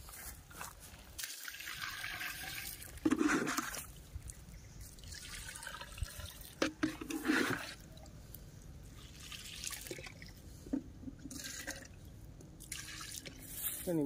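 Water is poured into a mud lobster hole on a dike, giving a faint, intermittent splashing trickle in bursts over an outdoor background hiss.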